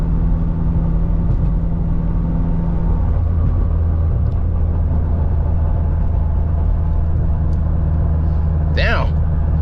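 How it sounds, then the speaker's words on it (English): A 600 hp turbocharged Honda Civic rumbles steadily from inside the car during a pull, a low droning engine tone with a brief voice near the end. "Car sounds so good."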